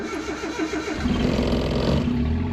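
A Suzuki Alto Works CR22S engine cranks briefly and then catches and settles into a steady idle, close and fairly loud, with no talking.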